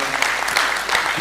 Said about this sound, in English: Let's clap our MD who has done a good job.